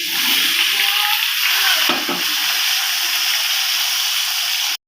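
Vegetables tossed into a hot pan with oil, chillies and tempering spices, giving a steady loud broadband frying hiss with a brief stir around the middle, cutting off abruptly at the end.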